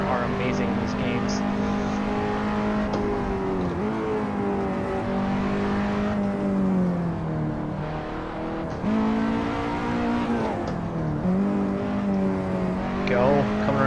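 An X-Bow car engine in a video game racing around the Nordschleife gives a loud, continuous buzzing drone that rises and dips with shifts and throttle changes, with occasional tire squeal.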